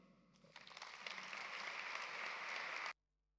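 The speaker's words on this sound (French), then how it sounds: "On peut vous applaudir." Graduation ceremony audience at a hotel school in Geneva applauding the families, quiet at first then swelling into steady clapping before stopping abruptly, fairly faint overall.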